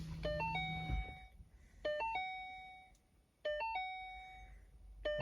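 Repeated electronic chimes sound in groups of short rising and falling tones, recurring roughly every one and a half seconds, quiet and clear inside a car.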